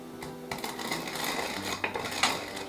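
Coriander seeds are being crushed by hand into pieces, making small dry cracks and crunchy clicks in a quick, uneven patter with a few sharper snaps, close and fairly quiet.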